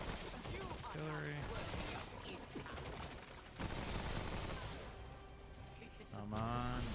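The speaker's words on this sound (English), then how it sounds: "Artillery." Video game artillery fire sounds as a faint series of distant, crackling bursts and thumps, mixed with bits of louder game sound. A person talks over parts of it.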